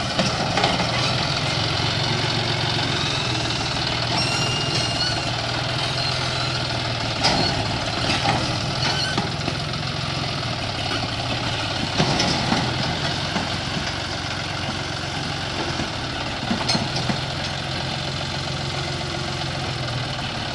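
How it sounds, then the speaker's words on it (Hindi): A John Deere 5036 super turbo tractor with a water tanker runs at a steady idle-like rumble while being backed out of a cramped village spot, its engine droning continuously and close with occasional louder knocks and bumps. "बेक कर रहे हैं भैया निकालने के लिए ट्रैक्टर को"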